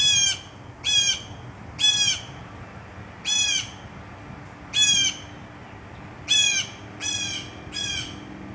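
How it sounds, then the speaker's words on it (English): A bird squawks repeatedly outdoors, with eight loud, harsh calls spaced roughly a second apart in an irregular rhythm, close by and clear over quiet background ambience. "That bird doesn't like that I'm out here."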